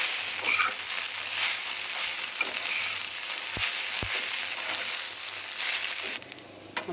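Pasta tossed with ground pepper and roasted spice powder in a hot pan, frying with a continuous close sizzle and a couple of scraping stirs, no voices, easing off near the end.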